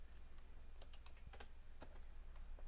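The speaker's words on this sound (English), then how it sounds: "we're going to type in ng-serve" Someone types a command on a computer keyboard while setting up an Angular project. The keystrokes are soft and close, in an uneven rhythm, with no talking.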